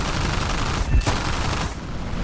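Aircraft guns fire in War Thunder, a short rapid burst of gunfire with a heavy thump near the middle over a constant loud engine drone.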